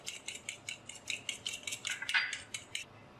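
A metal utensil repeatedly scrapes and clinks against a bowl while whisking an egg and cheese mixture, with a quick, regular rhythm of close, moderately loud taps and no talking.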